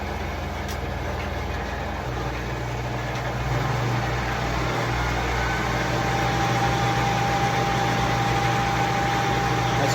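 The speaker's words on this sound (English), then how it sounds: "I just use this with the lathe turning. I'm going to increase the speed of the lathe." A wood lathe spins cocobolo pen blanks for buffing and ramps up toward about 2,000 rpm, giving a continuous close motor hum and whine that steps up in pitch partway through with no speech.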